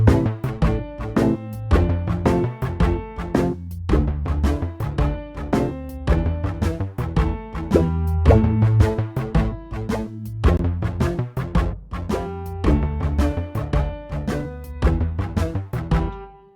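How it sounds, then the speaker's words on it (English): Layered electronic track built in FL Studio with a muted guitar part added, short percussive plucked notes in a busy rhythmic groove over bass and drums, loud and continuous. "let's add another muted guitar."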